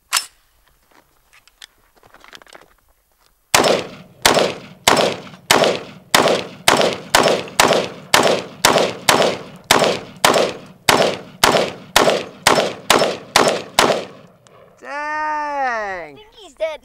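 A gun empties a whole magazine into a downed target: about twenty loud, evenly spaced shots in a steady rhythm, followed by a warbling tone after the firing stops.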